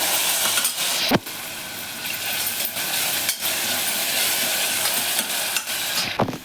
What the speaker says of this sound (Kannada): ಈರುಳ್ಳಿ ಇದನ್ನು ಚೆನ್ನಾಗಿ ಫ್ರೈ ಮಾಡ್ಕೋತಾ ಇದ್ದೀನಿ